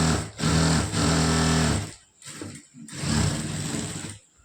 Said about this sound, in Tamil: அடுத்தது பாருங்க எப்படி தைக்கிறேன்னு பாருங்க